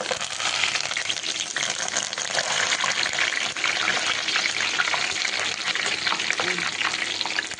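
Milk cream simmering down into ghee in a pan, a continuous dense sizzle and bubbling crackle that holds steady throughout, close by.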